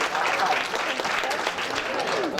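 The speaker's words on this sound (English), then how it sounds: "Let's clap it up for Mr. Francis Orange." Sustained applause from a banquet crowd fills the room, a dense steady patter of many hands clapping with a few voices audible beneath it, at a Mid Atlantic awards banquet for national championship athletes.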